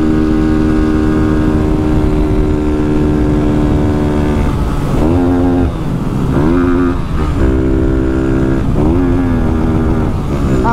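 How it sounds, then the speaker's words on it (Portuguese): A modified Honda Fan 160 motorcycle fitted with a Mini Fortuna exhaust rides at speed with a loud, close, continuous engine roar, its pitch dropping and climbing again through several gear shifts. "A moto bate 140 fácil demais"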